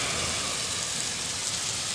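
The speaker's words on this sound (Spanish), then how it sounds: "una bonita tarde lluviosa aquí en la ciudad" Steady rain falls in Puerto Vallarta on an afternoon, a constant even hiss of drops on surfaces with no voices.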